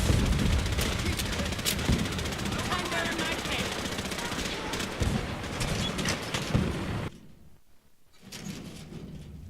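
Gunfire rattles through a Fallout 4 battle at Bunker Hill, dense bursts of automatic fire and sharp shots crackling continuously for several seconds before a brief lull and renewed shooting, with voices calling out amid the din.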